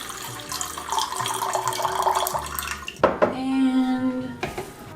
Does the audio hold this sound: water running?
yes